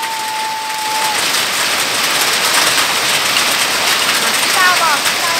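Hail pelting down in a steady, dense roar during a hailstorm in a mountain village, with a voice heard briefly over the continuous clatter.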